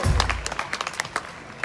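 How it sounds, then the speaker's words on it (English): A blues festival crowd at Burnaby claps briefly after a low thump, scattered separate hand claps at moderate level that thin out quickly into a few last claps. "Give yourselves a round of applause."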